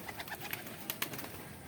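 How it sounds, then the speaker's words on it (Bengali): Soft cooing of Giribaz pigeons kept at home, faint and low, with a few brief calls and flutters over quiet background. "এখানে কিছু পায়রা আছে"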